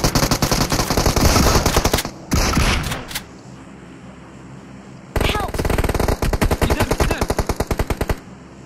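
Automatic gunfire in the Sanhok map of PUBG: a loud burst of rapid shots, a brief gap with a few stray rounds, then another long, fast volley trailing off.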